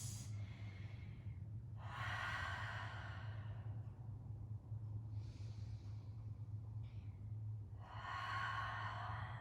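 Deep, slow releasing breaths during a full-body stretch, with four long exhales and sighs spaced a couple of seconds apart, close and soft over a low steady background hum.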